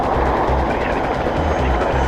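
A police helicopter flies over Heathrow, its rotor thumping in a steady, loud, low pulsing beat beneath a constant engine roar, heard close from on board.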